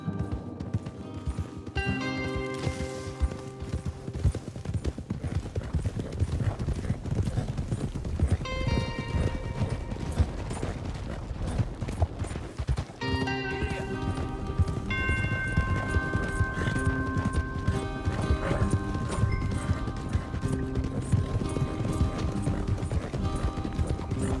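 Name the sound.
horses galloping in a video game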